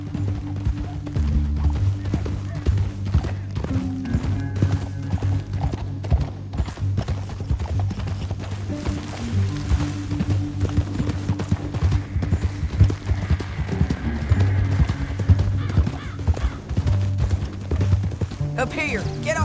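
In Red Dead Redemption 2, horse hooves clatter in a fast, steady galloping rhythm that goes on throughout, with voices and other activity mixed underneath.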